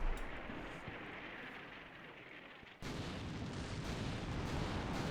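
A heavy artillery shell bursts close by in the Cold War combat game Combat Mission, a deep broadband boom lifting sharply amid an ongoing rumble of battle with no voices.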